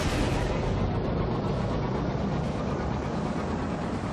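Enemy ships fire on the player in a space video game, dense rumbling booms rolling continuously like heavy artillery, loud and close, with no speech over them.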